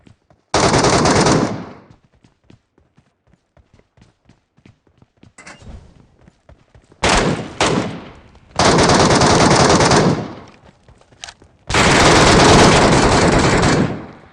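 Automatic gunfire from the PUBG Metro Royale video game rips out in loud, sustained bursts: a long volley near the start, a brief double burst midway, then two more long volleys, with faint clicks and footsteps between and no talk.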